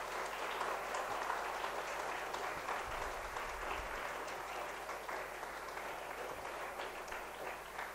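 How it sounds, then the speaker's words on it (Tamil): Sustained applause from an audience at a school heritage club inauguration, a steady wash of many hands clapping throughout, moderately loud and fairly distant, with no speech over it. "ஒரு பலத்த கரகோஷம்"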